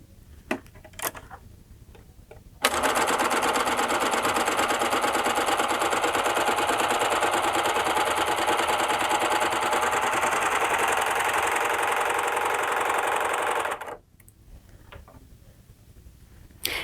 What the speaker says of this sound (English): So I have the machine threaded up for a triple cover stitch.